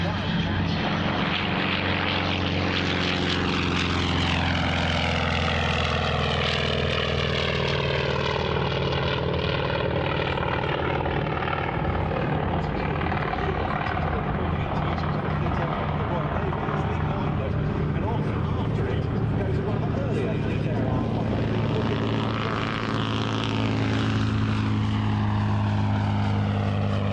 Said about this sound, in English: Underneath, taking off the Grumman FM2 Wildcat.